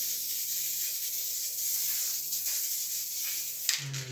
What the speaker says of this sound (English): Again, just give it a little spray.